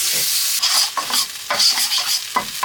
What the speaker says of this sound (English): I'm just going to cook the Thai curry paste.